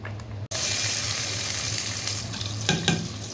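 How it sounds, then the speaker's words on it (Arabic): Vermicelli frying in a pan for homestyle lentil soup, a loud sudden sizzle that starts abruptly and stays steady, with a couple of stirring scrapes near the end. "شوية الشعرية اتحمروا."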